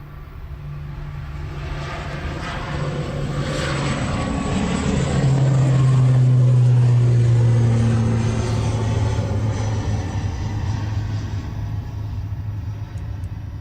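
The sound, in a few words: ATR turboprop aircraft departing to Dublin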